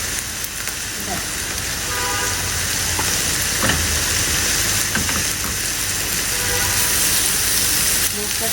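Spice paste of ginger and garlic with turmeric and salt frying in a pan, a loud steady sizzle with faint clinks, and no talk over it.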